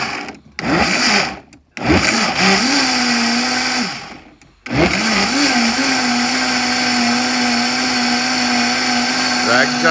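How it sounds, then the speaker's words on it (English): Vitamix blender whirring loudly as it blends shoyu, ginger and garlic, in short bursts at first with brief pauses, then one steady sustained run to the end. "And then we get some shoyu inside our Vitamix with our ginger and our garlic. We're gonna give this bugger,"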